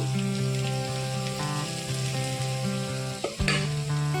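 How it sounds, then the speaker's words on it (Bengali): Chopped papaya frying with onions in a pan, a dense steady close sizzle with a brief clatter of stirring near the end before the sizzle resumes. "এবার আমি এর মধ্যে কেটে রাখা পেঁপেগুলো দিয়ে দিব"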